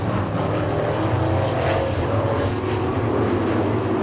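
Late model sportsman race cars roar down the main straightaway under green on a Saturday night at Talladega Short Track, a dense, loud, continuous engine drone with no voices over it.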